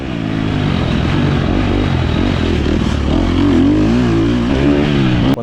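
Dirt bike engine revving through corners, loud and close with a rough, rising and falling roar and clattering undertone, continuous for the whole stretch.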